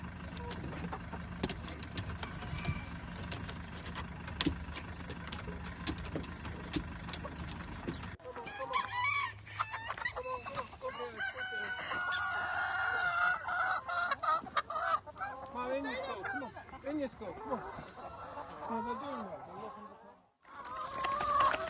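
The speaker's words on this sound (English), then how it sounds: "This is the hens, just broken about 20 eggs for them." A flock of hens clucks and murmurs close by, busy overlapping chatter with background hum, while a person speaks now and then.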